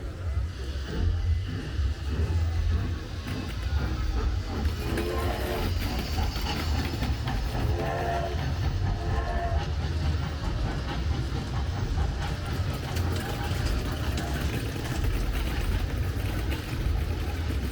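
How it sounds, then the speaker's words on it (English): Continuous rumbling of a small LED-lit express ride train running past with rhythmic clatter at night on International Drive, Orlando, while people talk in the background throughout. "And their own little express train as well."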